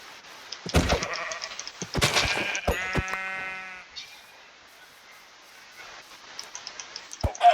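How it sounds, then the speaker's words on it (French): Several sheep bleat in Minecraft in short harmonic calls, a few clustered together near the start, with sparse ticking game sounds and a quiet stretch before some faint clicks at the end. "Il y a quelques moutons."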